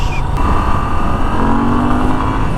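A Moto Guzzi V7 Stone motorcycle's exhaust rumbles close and loud, a steady low engine drone held at even revs for a couple of seconds with no talk over it.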